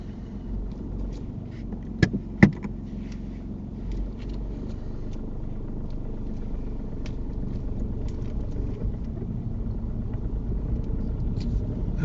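A car pulls away during a driving test, heard from inside as a low, steady engine rumble with road and wind noise, and a couple of sharp clicks early on.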